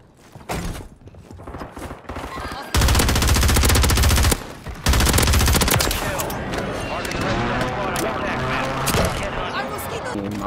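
SMG fire in Warzone 3, rapid full-auto bursts, close and loud, with a couple of long sustained strings separated by short pauses, then softer action while players talk.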